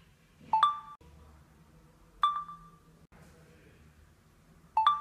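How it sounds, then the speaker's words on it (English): Three bright electronic chimes from an iPhone camera on iOS 10, the stop-recording alert, each a short clear ding spaced a couple of seconds apart over quiet room hum, with no talk. "After unlocking your phone and opening up camera, you will hear the sound when you stop recording."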